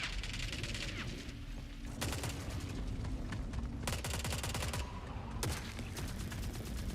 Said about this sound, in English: Fucking snipers.